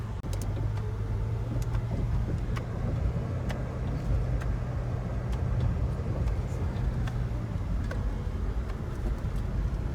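A car driving along a road on a hot, sunny day, heard from inside the cabin: a steady low engine and road drone continues throughout, with faint clicks and rattles, and no one speaking.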